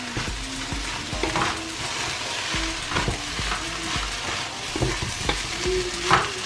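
Rice for Ghana fried rice is stir-fried with dark soy sauce in a pan, a steady sizzle broken by repeated scraping and stirring strokes of a utensil, with no talking.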